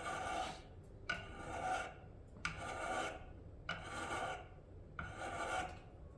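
Steady rasping strokes of a hook knife drawn across a 1000-grit whetstone, five long even passes with brief pauses between, close and clear.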